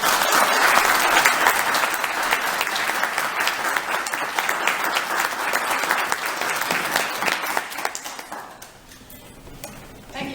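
An audience in a lecture hall applauds to welcome a speaker, dense steady clapping for about eight seconds that then thins out and fades.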